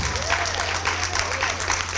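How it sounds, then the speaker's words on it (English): A church congregation at a morning worship service claps in praise, a continuous crowd applause with a faint voice mixed in. "Give God one hand clap of praise this morning."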